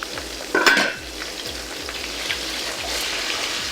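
Salmon fries and browns in a pan with a steady, close sizzle, broken early by a brief clatter of utensil against pan.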